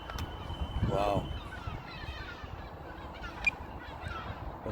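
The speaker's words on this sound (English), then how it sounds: "them seagulls won't leave the drone alone" Harsh seagull calls squawk outdoors around a drone, one loud call early and a few fainter cries later, over wind and faint background voices.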